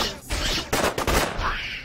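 Bursts of gunfire in the video game UFO: Aftermath, a loud, dense volley of rapid shots lasting under two seconds with no talk over it.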